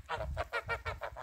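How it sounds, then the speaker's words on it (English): Geese honking as a flock gets up and walks away on a heritage-breed homestead, a quick run of about six nasal honks in steady rhythm, fairly close and clear. "as the geese all got up and walked away from me"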